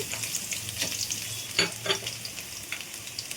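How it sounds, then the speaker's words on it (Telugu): Chopped garlic frying in hot oil in a kadai, a soft steady sizzle with a few brief scraping stir sounds, close and fairly quiet, with no talking. "ఆయిల్ వేడెక్కిన తర్వాత చిన్న చిన్నగా కట్ చేసుకున్న వెల్లుల్లి తరుగు వేసుకోవాలి"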